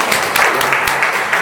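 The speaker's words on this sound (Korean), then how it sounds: "그거 한번 박수 좀 한번 쳐드려요." An audience at an evening church worship service applauds the worship leader with a dense, steady burst of clapping that fills the room, loud and close.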